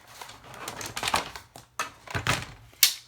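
A paper trimmer slicing cardstock, several short crisp scraping cuts and clicks in quick irregular bursts, close and fairly quiet.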